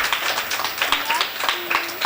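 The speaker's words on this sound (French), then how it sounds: "On applaudit Wood, petit." Small group claps for a child at a children's Christmas dinner, uneven rhythmic hand claps close by with a few voices mixed in.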